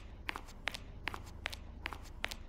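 Footsteps in the Roblox prison-escape game, about six regular, evenly paced steps over a low steady hum, moderately close with no talking.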